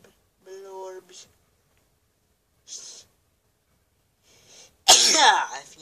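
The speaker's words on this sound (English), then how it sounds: "If you sneeze, you are weird." A single loud, sharp sneeze bursts out near the end, following a few scattered breaths and vocal noises from a person playing a Zelda Twilight Princess game, with silence between them.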